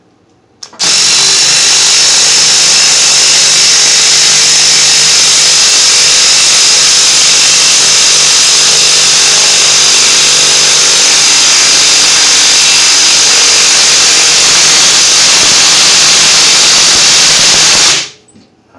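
A Ridgid cordless impact driver drives a screw in one long, loud burst of rapid hammering and whine, sustained for about seventeen seconds before stopping abruptly.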